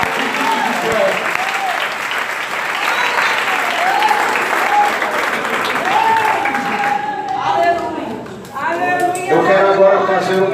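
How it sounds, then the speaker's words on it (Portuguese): A church congregation applauds and praises during a worship service, steady clapping filling the room with voices and shouts rising over it, swelling toward the end. "aplauda o Senhor por ela e fique de pé"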